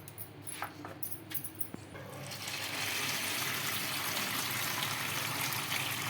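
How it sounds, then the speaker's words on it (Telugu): Water pours and splashes over two cups of puffed rice being rinsed in a bowl in a home kitchen; a few light clinks come first, then a steady, close, fairly loud rush of water runs for the remaining seconds. "ఇప్పుడైతే వాటర్ వేసేసుకొని బాగా ఇలా కడిగేసుకుందామండి"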